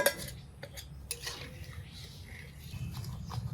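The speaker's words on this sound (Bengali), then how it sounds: "চিনি দিলাম গুলে নিচ্ছি" Metal spoon scraping and clinking against a pot while sugar is stirred into milk semolina, a run of close, irregular taps and scrapes over a low background hum.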